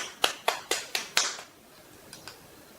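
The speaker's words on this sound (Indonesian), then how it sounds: "Tepuk tangan dulu untuk ibu-ibu yang sudah berani menyampaikan" A small group of women in a community session claps: five sharp, evenly spaced claps close by, then quiet, followed by two faint trailing claps.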